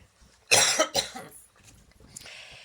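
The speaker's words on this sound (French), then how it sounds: "Ma gorge gratte, ma gorge tousse." A single harsh cough bursts out close up, followed by a second smaller cough and a faint throat sound, then quiet.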